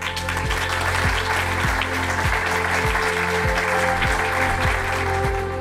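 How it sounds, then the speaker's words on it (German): Sustained, steady applause from an audience at an award ceremony for honor pins and a local heritage prize, dense clapping filling the hall evenly throughout with no speech over it. "ich glaube, an dieser Stelle ein ganz großer Applaus an alle TV-Verler, die sich engagieren und ganz besonders an Maja Kraft"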